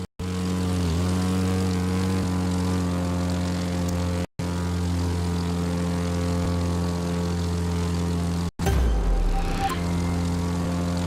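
A propeller plane engine drones steadily with a strong harmonic hum during an air drift in The Crew 2 racing game, with brief dropouts and a sweeping pitch change near the end.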